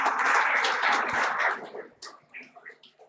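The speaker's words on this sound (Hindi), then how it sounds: "मंजूर हो तो एक बार फिर से मीठी मीठी तालियां हो जाए" An audience at a school Republic Day function in Barmer claps in a burst of applause that fades out after about a second and a half, followed by scattered voices and a few stray claps.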